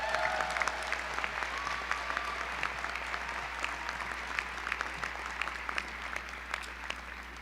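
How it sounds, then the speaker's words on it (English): An audience applauds at the Kirk Kerkorian School of Medicine 2022 commencement ceremony: steady, dense clapping from a large crowd, even in level throughout. "Let's have another round of applause for Dr. Schreck."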